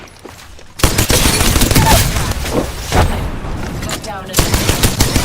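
Rapid automatic gunfire from a first-person shooter video game rattles loudly through most of the stretch in dense bursts, mixed with game effects and a brief spoken line.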